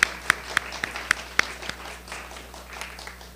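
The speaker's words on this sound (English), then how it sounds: "I feel like applauding already. And let's do that." A small audience at a poetry reading series claps, a few distinct sharp claps in a loose rhythm near the start, then softer scattered clapping that thins out.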